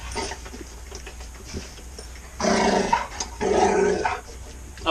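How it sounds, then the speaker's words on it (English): A pet dog growls low and rumbling in an RV, two sustained growls building out of quieter snarling, close by with no talk over them. "He's all growl."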